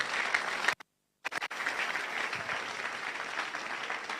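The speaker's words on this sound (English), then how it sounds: "much more bigger and louder round of applause for yourselves" Audience applause at a youth gathering, dense and steady, broken by a brief dropout near the start before the clapping resumes and carries on evenly to the end.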